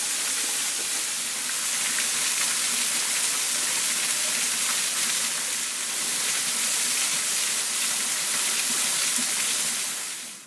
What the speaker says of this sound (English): I reckon this is the last waterfall of the walk. Just a little one to finish off with.